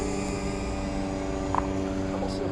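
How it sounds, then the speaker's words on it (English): A small camera drone climbs into the air with a steady, droning whine of many harmonic layers, close and continuous with a faint click partway through, and no talking. "we've got the drone up in the air right now"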